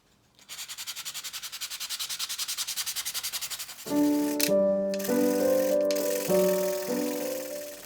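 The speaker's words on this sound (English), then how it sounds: "I'm going to sand off this stain on the sides" Sandpaper is rubbed by hand over the stained wooden sides of a vintage jewellery box in quick, even back-and-forth strokes for several seconds. Tonal background music then takes over and covers it.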